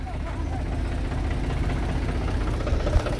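A tractor engine idles nearby with a steady low rumble and a dense, even chug that does not change, with a faint voice underneath.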